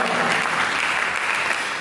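A church congregation claps for Jesus Christ during a sermon, loud and dense, filling the whole moment without a break.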